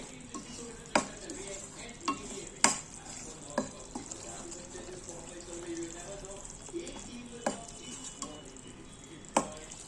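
Flour for sukhdi, a Gujarati sweet, roasting in a pan while being stirred, giving a soft continuous hiss broken by repeated scraping knocks of the spoon against the pan at irregular intervals.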